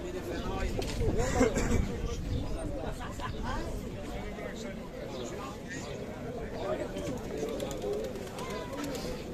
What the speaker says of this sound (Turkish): Mardin kuşları.